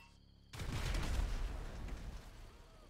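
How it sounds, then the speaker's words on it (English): A single booming gunshot in GTA Online, fired at a security camera during the Cayo Perico heist, bursts in after a brief quiet lull and rolls off into a fading rumble. "Yeah, I'll shoot the camera."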